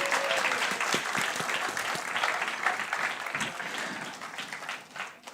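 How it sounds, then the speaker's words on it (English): An audience claps steadily at a live festival opening, a dense, fairly distant wash of applause that holds for several seconds and thins slightly near the end. "Big applause for Koa!"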